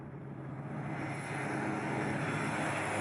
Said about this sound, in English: These Cessna planes are built for comfort.